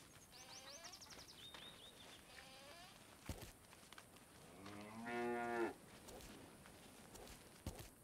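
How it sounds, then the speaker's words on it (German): Cows mooing in the video game Force of Nature 2, several quiet, drawn-out calls spread across the clip with one louder, deeper moo near the middle, over faint insect buzzing. "Ah, ihr Kühe kommt her."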